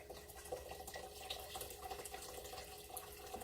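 Turkey broth poured while canning turkey soup, a faint, steady trickle of liquid splashing into a container, low and continuous with no talk.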